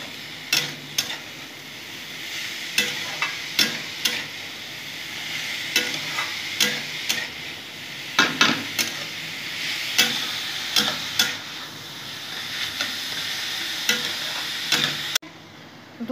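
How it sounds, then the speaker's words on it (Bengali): Grated carrots with sugar and milk powder are stirred in a pan for carrot halwa, a spoon scraping and tapping at irregular intervals over a constant soft sizzle, close and clear throughout. "চিনি ভালো করে নেড়ে নেবো চিনির সাথে গাজরগুলো।"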